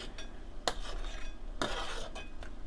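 A spoon stirs doenjang soybean paste into boiling anchovy broth in a pot, making a few soft clinks and scrapes against the metal over a quiet bubbling simmer.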